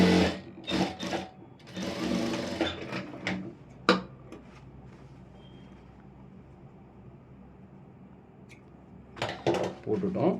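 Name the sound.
sewing machine stitching Aari work blouse side seam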